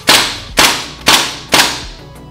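Crosman DPMS SBR air rifle fired semi-automatic at backyard targets: four sharp, loud cracks spaced about half a second apart, each with a brief decaying tail, no voices.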